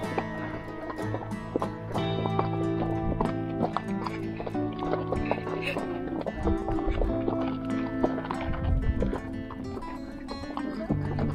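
A horse's hooves clop and scuff irregularly on rough ground in Cappadocia, close by, with a few soft splashy knocks mixed in among the steps.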